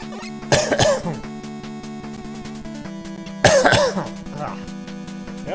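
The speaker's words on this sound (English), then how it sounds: "We're having some issues with coughing" Two bursts of coughing and throat clearing, spaced about three seconds apart, rise loud and close over a steady background hum.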